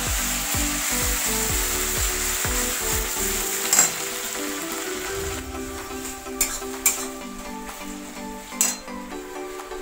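Masala fries in a pan for egg biryani, a steady sizzle with rhythmic stirring or scraping at first, then a quieter hiss with a few sharp clinks, close by and with no talking.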